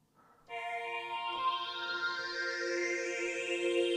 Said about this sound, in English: VC340 Behringer string sound going through it